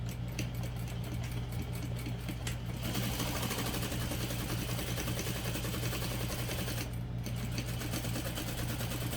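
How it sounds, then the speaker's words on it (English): A home sewing machine stitches a box on a barrel bag with a short stitch length, a fast steady mechanical whirr running continuously, with a brief pause near the start and another later on. "I'm just going to sew directly over the box that I drew"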